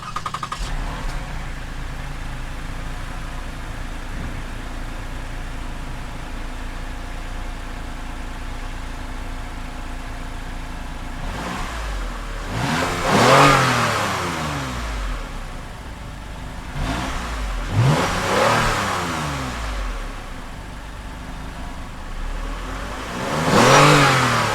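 A 2017 Lexus RX 350 with a 3.5-liter V6 accelerates in three loud, swelling surges separated by steadier engine drone, with no talking.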